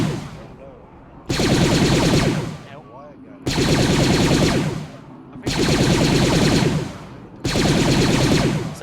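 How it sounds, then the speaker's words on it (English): Automatic weapon fire from an auto rifleman in the military shooter Arma 3, heard as four long, loud, sustained bursts of rapid shots separated by short pauses, with faint background noise between bursts. "there's the auto rifleman firing"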